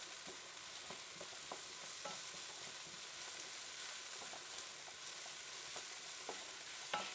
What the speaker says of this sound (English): let's just turn our onions.